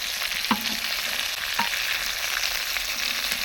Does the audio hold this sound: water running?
no